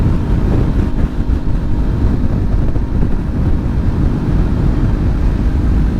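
Wind buffets a GoPro microphone while riding a Kawasaki Ninja 400 on the street in gusts over 20 mph, producing a loud, constant low roar that fills the whole stretch.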